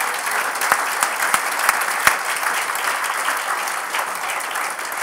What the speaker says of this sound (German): bitte begrüßen Sie mit einem dunnenden Applaus unseren Gast vom heutigen Abend